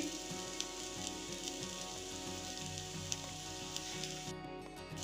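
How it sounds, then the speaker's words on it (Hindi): Chillies fry with Kashmiri red chilli powder, turmeric, fennel powder and salt in a pan, giving a steady soft sizzle with light crackles and occasional stirring taps. "मिर्ची को मैंने 1 मिनट भून लिया है"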